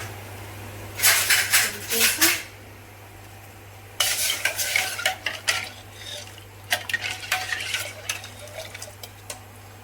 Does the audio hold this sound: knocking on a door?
no